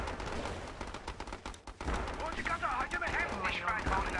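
Gunfire from a deployed gun turret in the mobile strategy game Battle Islands Commanders, a dense run of rapid shots and explosive bursts mixed with game effects and voice lines.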